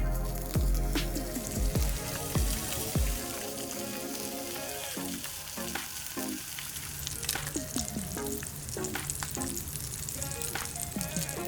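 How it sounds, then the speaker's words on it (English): Pork belly sears in a hot pan, with a loud initial hiss as the pieces go in, then a continuous crackling sizzle dotted with sharp spits and pops. "all you need to do is sear off your pork belly"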